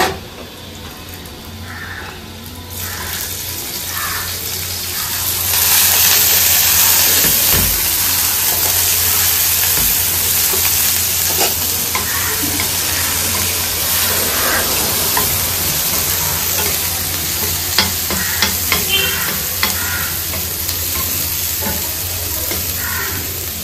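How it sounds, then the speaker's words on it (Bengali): Onion and garlic frying lightly in a pan, giving a steady broadband sizzle that swells louder after a few seconds and holds, with occasional stirring clicks and no talk. "পেঁয়াজ আর রসুনটা এবার একটু হালকা ভাজা হোক"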